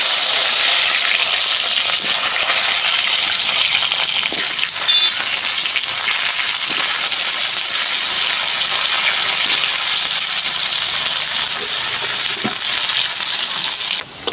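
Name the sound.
taro (kochu) pieces frying in oil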